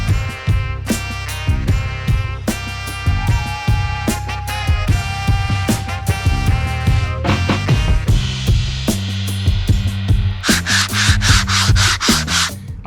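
Bondo body filler being sanded on fender flare molds for a custom carbon widebody kit on a Tesla-swapped Chevrolet C10 squarebody pickup: steady, continuous scraping strokes under background music, growing brighter and harsher near the end.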